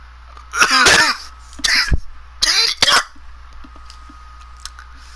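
Several harsh coughs and a throat clearing from one person up close, in three loud bursts over the first three seconds, then quiet.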